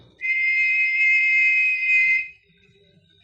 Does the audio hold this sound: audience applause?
no